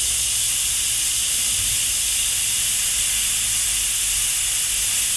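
An airbrush sprays yellow paint in one steady, loud, continuous hiss that never breaks.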